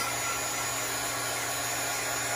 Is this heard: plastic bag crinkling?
no